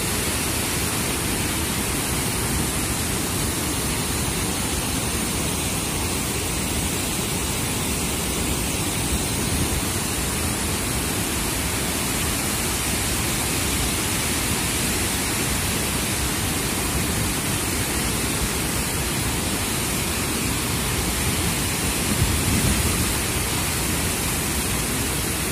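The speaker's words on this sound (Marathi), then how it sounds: "त्या धरणाच्या सांडव्यावरून सध्या पाणी जे आहे ते वेगाने पडत आहे" Water pours over the spillway of the Khodshi dam near Karad after days of heavy rain, a loud unbroken roar of rushing water that fills the whole scene with no talking.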